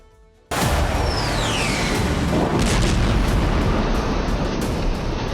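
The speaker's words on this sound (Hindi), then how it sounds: "दक्षिणी गाजा इजराइल के हमलों से दहल रहा है। खान यूनिस में बमबारी ऐसी कि मंजर देखकर रूह कांप जाए।" Bombardment explosions in Khan Younis, southern Gaza: a sudden loud boom erupts after a brief quiet start, followed by a sustained roaring rumble of blasts with a descending whistle overhead, dense and continuous throughout.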